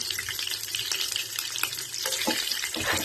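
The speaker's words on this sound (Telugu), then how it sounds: "బాగా వేయించుకోవాలండి" Curry leaves, green chillies and cashews fry in hot oil for rice pongali, a steady close sizzle with occasional stirring scrapes and clatter and no speech.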